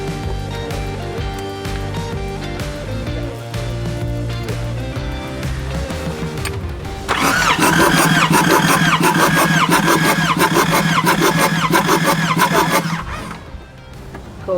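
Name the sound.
4WD diesel engine cranking with glow plugs removed, compression test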